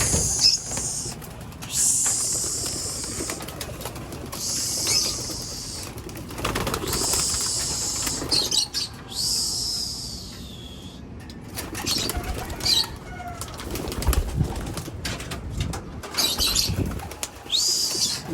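Pigeons flutter and take off in repeated bursts of loud, close wing-flapping, with soft cooing in between and short pauses between flights.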